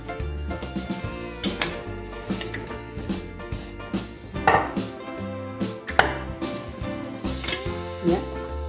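Knife chopping green beans into small cubes on a cutting board, steady repeated thuds with crisp cuts, close and fairly loud, with a music bed playing underneath.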